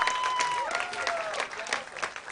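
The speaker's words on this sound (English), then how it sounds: "Nice round of applause for him." A festival crowd applauds a guest brought onstage at a live comedy show, producing a dense, continuous wash of clapping and cheering with a faint tonal whine running through it.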